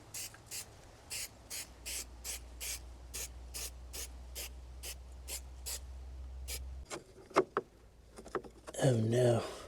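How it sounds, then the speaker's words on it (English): Spray adhesive hissing from an aerosol can in a series of short, evenly spaced bursts while gluing a panel back in place during van build maintenance, followed by a few knocks and rustling handling noises. "I'm gonna use spray adhesive, and I'm just gonna glue that back"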